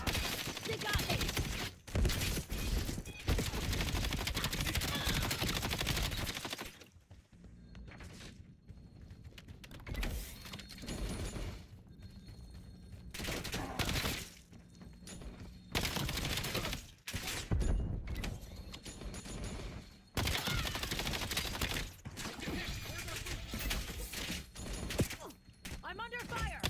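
Gunfire in Call of Duty: Black Ops 7 crackles in dense, rapid bursts across a busy game mix, dropping briefly before returning loud with overlapping shots and effects.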